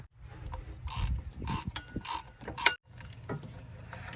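Ratchet wrench backing out the upper mount bolts on a Ford Ranger 2.5L during thermostat replacement: close, bursts of rapid pawl clicking separated by short pauses and a brief silence, with no talk.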